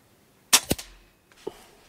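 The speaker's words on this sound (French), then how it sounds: "On va vider le chargeur du Kral." Kral air rifle shots as the magazine is emptied outdoors, two sharp pops in quick succession with a short trailing rattle, then a softer third report a moment later, loud and close with no talk.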